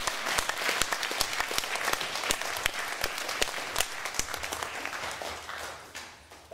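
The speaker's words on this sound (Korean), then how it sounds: "여러분 큰 박수로 맞이해주십시오" An audience at a year-end gala claps steadily and warmly, welcoming a foundation chairman to the stage; the dense applause carries on alone for several seconds before easing slightly at the end.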